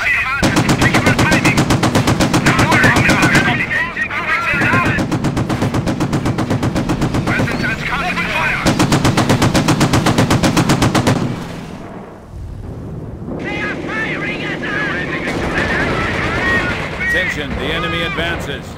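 Dense, continuous machine-gun and rifle fire from the Company of Heroes Blitzkrieg mod, loud and close, with rapid rattling bursts broken by brief pauses and heavy booms, and game voices calling out over the battle.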